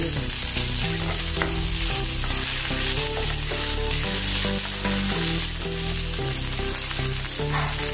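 Curry leaves sizzling loudly in hot oil for a jowar flour idli, a dense crackling fry that runs without a break. Steady stirring sits under it, and no one speaks.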